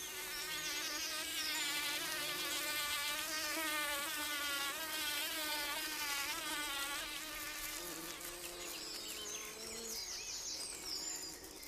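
A bee buzzing at up to 370 times a second on a flower to shake pollen loose, a dense, close, continuous high-pitched drone that wavers in pitch and holds steady for several seconds.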